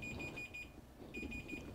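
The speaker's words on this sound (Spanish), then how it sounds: "Alcanza a oír el pito." A multimeter in continuity mode gives faint, high-pitched beeps in two short bursts, quiet and fairly close.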